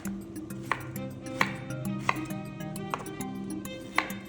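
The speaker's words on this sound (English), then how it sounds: "Rough chopped green onions and fresh ginger." A knife rough-chops green onions and fresh ginger on a board, giving sharp, evenly spaced chops about every half second over a soft background hum.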